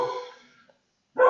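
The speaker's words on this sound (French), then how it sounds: "Il y a le chien qui gueule." A dog barks indoors, one short loud bark followed by a fading tail, then a second bark starting after a brief silence.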